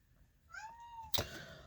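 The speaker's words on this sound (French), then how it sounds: "mes chats veulent sortir, mais il pleut, donc ils font beaucoup de bruit" A cat kept indoors on a rainy day, wanting to go outside, lets out one drawn-out, rising-then-falling meow at fairly low volume, followed by a brief sharp knock.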